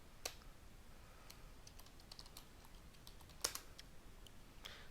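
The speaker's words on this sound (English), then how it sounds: "So I'm going to type my credential here, vCenter admin, and my domain name victorinfosol.lan, and I'm going to put my password here." Credentials and a password being typed on a computer keyboard: faint, sparse key clicks scattered across the stretch, a small cluster near the end, close by in a quiet room with no talk.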